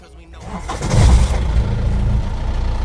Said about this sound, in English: I'll just start it for you and you'll see what I mean.